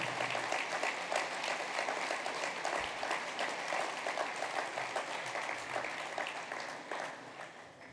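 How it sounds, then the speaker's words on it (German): Sustained crowd applause at a FDP Bavaria state party convention, dense steady clapping from a large hall audience that carries on for several seconds and tapers slightly at the end. "Applaus"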